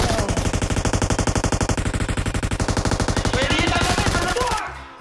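Rapid automatic gunfire in the shooter game PUBG Mobile rattles on loud and unbroken for several seconds, then cuts off abruptly.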